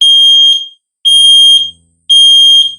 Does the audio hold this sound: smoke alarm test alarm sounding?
yes